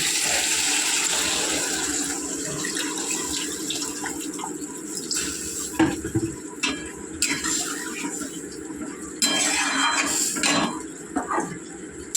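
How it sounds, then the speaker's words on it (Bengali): Water is poured into a pan of cooked-down masala, giving a steady splashing flow with occasional pot and utensil clatter in a home kitchen, fairly near and moderately loud. "এইবারে আমি জল দিয়ে দেবো পরিমাণ মতো।"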